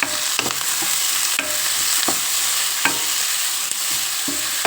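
Onion and tomato fry in a pan for a raw banana curry, with a constant close sizzle broken by periodic spoon scrapes against the pan, and no voices.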